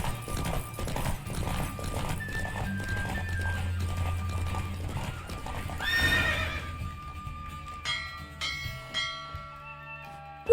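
A horse gallops in a race in The Witcher 3 video game, steady clip-clop hoofbeats with snorts and a whinny, accompanied by ringing bell-like tones and game music throughout.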